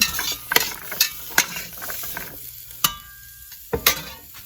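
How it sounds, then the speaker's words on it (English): Halved baby carrots sauté in a soup pot for cabbage soup, a soft ongoing sizzle punctuated by several sharp spoon knocks and scrapes against the pot. "I just want them to kind of saute a little bit"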